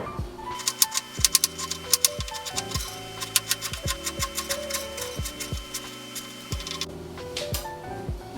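Knife slicing peeled ginger thinly on a cutting board, rapid sharp taps against the board in quick irregular bursts, close and crisp.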